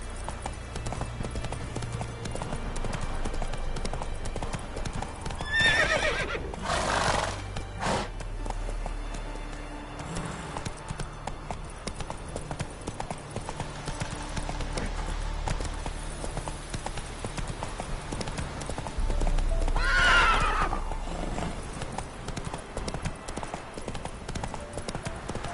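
Roach, a horse in the video game The Witcher 3, gallops with a steady clip-clop of hooves throughout, over a low ambient game background, with a couple of louder swells along the way.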